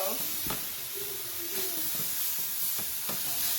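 Lamb chops sizzle in a hot pan with an even, moderate hiss and a few sharper crackles and spatters, while someone talks over the frying.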